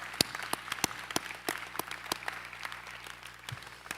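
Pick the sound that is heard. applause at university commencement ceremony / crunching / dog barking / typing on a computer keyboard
applause at university commencement ceremony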